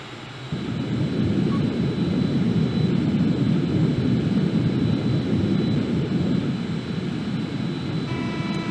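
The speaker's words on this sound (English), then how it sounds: "So we are taking off from the Ramat David airport" An F-16 taking off from Ramat David airport in a 1997 flight simulator game, with a loud steady jet roar swelling in after half a second and holding near and constant, easing slightly toward the end.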